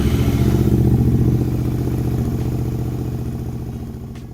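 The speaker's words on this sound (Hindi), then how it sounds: "तो सबसे पहला स्टेप है वार्म अप करना बाइक" A Royal Enfield GT650 motorcycle warms up in neutral, its parallel-twin engine ticking over in a close, even, pulsing rhythm that slowly fades slightly in loudness.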